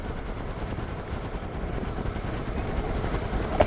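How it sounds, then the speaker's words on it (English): CN freight train L544 rolls past with a continuous heavy rumble and clatter, plus a sharp knock near the end. "This train here is CN"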